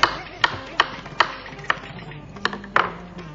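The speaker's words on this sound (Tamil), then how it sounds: "இப்போ வெள்ளரிக்காய் நறுக்கியாச்சு" A knife chops cucumber on a board in about eight sharp, evenly spaced taps, close and clear over a quiet background.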